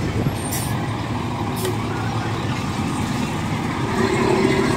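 A Yamaha Aerox scooter fitted with a JVT center clutch spring revs hard, with a loud, steady engine roar that builds slightly toward the end.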